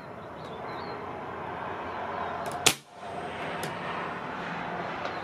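A single long-range shot from a Reximex Throne Gen-2 .177 (4.5 mm) airgun outdoors: one sharp, sudden crack stands out briefly above a steady background of wind and ambient noise, with no talking.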